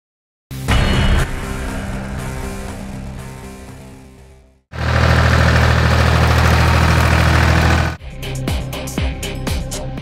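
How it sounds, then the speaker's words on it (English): A Case IH Steiger Quadtrac 550 tractor engine runs loud and close, a deep rumbling idle that surges heavier midway, cuts briefly, then returns with knocking pulses. "The Case IH Steiger Quadtrac 550 is a powerful tractor, engineered for performance, efficiency, and dependability."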